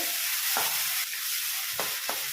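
Ginger garlic paste fries in a hot pan with a steady, loud, hissing sizzle, interrupted by a few brief scraping stirs of a spoon through the paste.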